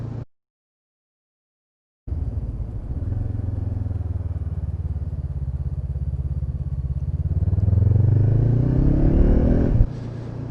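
A Honda CB500F motorcycle on the road, its engine droning steadily after a brief gap, then rising in pitch as it accelerates and revs harder before dropping back, loud and close with no talk.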